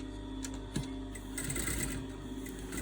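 A sewing machine stitches around the edges of fabric for a lion's head craft piece, giving a steady, quiet mechanical whir with a faint rhythmic clatter and no talking.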